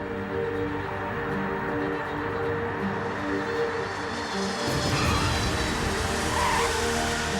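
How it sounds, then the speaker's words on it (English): An Antonov cargo plane lands, its 20 rear wheels touching down while carbon disc brakes grip hard. A loud, steady broadband roar of engines and rolling tires swells further about two-thirds of the way through, with no voices. "It's time for the Antonov's brakes to do their job"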